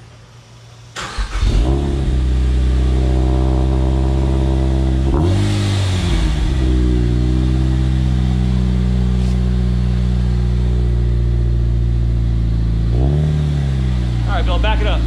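Mazda Miata engine starting for the first time with a Flying Miata mid pipe fitted, cranking then catching into a loud steady idle, with two brief revs partway through, close to the exhaust while people talk nearby.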